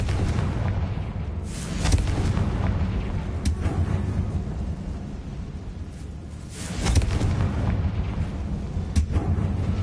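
A Confringo fire spell explodes in a Harry Potter video game, with deep rumbling booms and crackling blasts rolling on continuously, swelling again toward the end.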